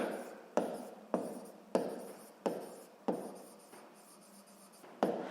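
Pen writing by hand on paper during a Ukrainian 7th-grade physics exercise, a series of close, distinct scratchy strokes repeating roughly every half second, with no voice over them.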